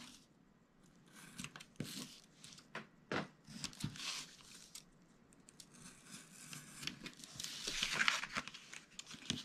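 Scissors snipping through thin acetate sheet, cutting away flaps and end pieces: a quiet run of irregular crisp snips and crinkles, close and alone, with a denser burst of cutting near the end.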